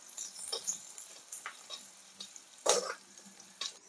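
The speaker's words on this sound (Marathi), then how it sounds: "आणि आता टाकायचा कांदा।" Onion frying in a pan: a faint, quiet sizzle with scattered light stirring scrapes and one sharper clatter, close by and with no talk.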